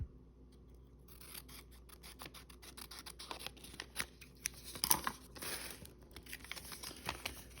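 Scissors trimming material up close, giving a run of quiet, scratchy snips and crinkles that come and go in an uneven rhythm, with no talking.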